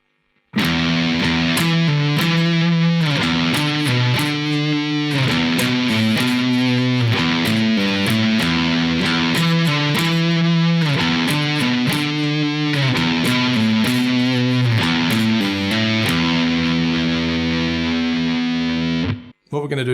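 Heavily distorted electric guitar chugs through a swinging pentatonic stoner rock riff, loud and close, repeating for about twenty seconds before cutting off abruptly, with no voice over it.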